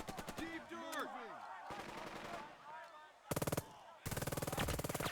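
Machine gun fire from the World War II strategy video game Burden of Command, with rapid mechanical bursts near the end following scattered game effects and tones, heard alone.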